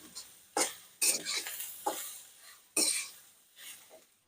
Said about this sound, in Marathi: गॅस कमी जास्त करून चुरमा परतून घ्यायचा.